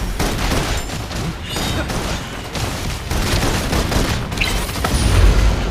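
Sustained suppression gunfire in the sci-fi video game Love & Deepspace, a dense, loud barrage of overlapping shots and booms rolling on without a break, with a few tonal game effects layered in.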